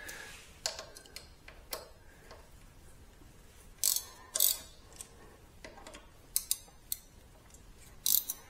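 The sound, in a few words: Ratchet removing screws with 4 mm Allen key on Ducati fork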